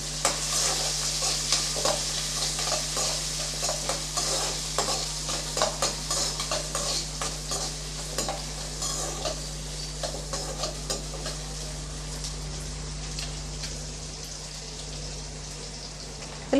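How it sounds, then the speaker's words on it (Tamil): Chopped onion sautés in a pan with a steady sizzle, broken up by frequent close scraping and stirring clatter that runs all the way through, and no one speaks. "ரெண்டையும் சேர்த்து நல்லா வதக்கி விட்டுறலாம்."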